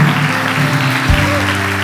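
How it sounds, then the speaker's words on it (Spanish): A church congregation at a Spanish-language service claps continuously and loudly over sustained music, a dense wash of hand claps with no pauses. "La iglesia aplauda para ayudar a dar a luz."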